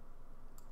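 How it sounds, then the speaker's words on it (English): Computer mouse clicking while scrubbing audio in the Papagayo lip-sync program, a single faint, brief click over a steady low hum. "I'm left-clicking and holding and kind of scrubbing across."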